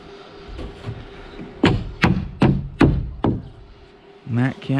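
Hammer striking nails into wooden garage framing, five sharp close knocks in an uneven rhythm followed by a quick cluster of taps, over low background noise.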